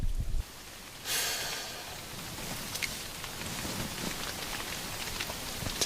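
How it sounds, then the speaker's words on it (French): Steady rain patters on a tent in the Himalaya, a soft continuous hiss with scattered drops, close and fairly quiet. "on va regarder la pluie tomber"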